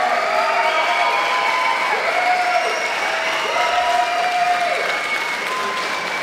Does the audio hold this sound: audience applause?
yes